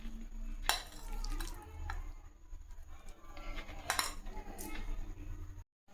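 Rice being served onto a plate from a pot, with a few sharp spoon scrapes and clinks against metal dishware over soft scraping, close and moderately loud, no talking.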